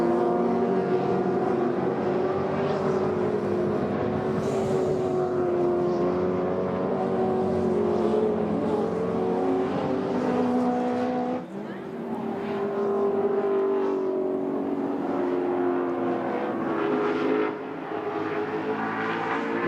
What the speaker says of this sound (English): Race leader John Bow, the unmistakable sound of the Falcon V8.